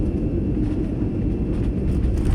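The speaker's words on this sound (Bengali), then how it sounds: "এই যে ল্যান্ড গেল এয়ারপোর্ট, বোম্বাই এয়ারপোর্ট ল্যান্ড" An airplane landing at Mumbai airport fills the scene with a steady, heavy engine roar and low rumble that holds at the same level throughout, with no voices.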